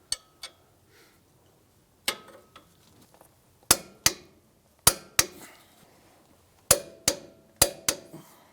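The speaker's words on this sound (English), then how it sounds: "our bottom 2 strut bolts are going to get torqued down to 120 foot-pounds" Sharp, separate clicks from a torque wrench as the two lower strut bolts on a 2007-2015 Mazda CX-9 front suspension are tightened to 120 foot-pounds, heard in pairs and short bursts, close and moderately loud with no talk.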